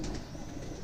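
A Saharanpur Kalsara pigeon coos softly at close range, a short low murmuring burst with no talking.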